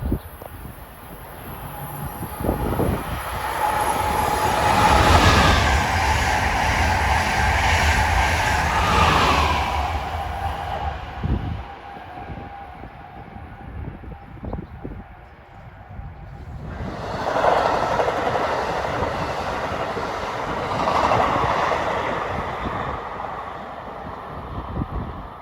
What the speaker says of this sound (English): coming up number 2 is the Acela Express 2252 from Washington to Boston